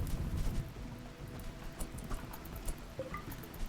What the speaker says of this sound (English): Oh, nice, rain.